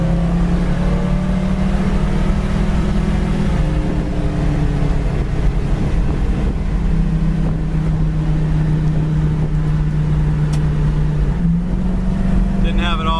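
A 1973 Petty blue Dodge Challenger with spoiler drones steadily and loudly as it accelerates, its engine pitch stepping down at two gear changes, with wind buffeting the microphone and a voice speaking over it.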